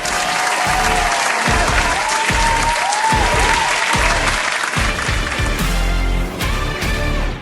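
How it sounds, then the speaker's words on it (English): A studio audience applauds and whoops as the host of a talk show comes on, loud continuous clapping with rhythmic thumping underneath and a few shouted cheers rising above it. "I love the applause."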